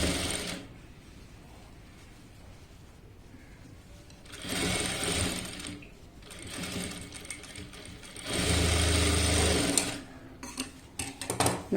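A sewing machine stitches a puff sleeve frock in several separate runs of steady whirring, with the longest and loudest burst near the end and quieter pauses between runs.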